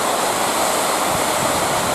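Steady rushing water fills the clip, a constant broadband wash like a stream flowing close by, with no voices.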